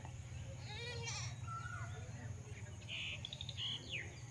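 Farm goats bleat in short bursts against a steady low rumble, and a few bird chirps come through between the calls.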